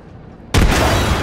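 Frag grenade detonating in Apex Legends, a single sudden loud boom that breaks a quiet stretch and rolls into a dense, rumbling tail.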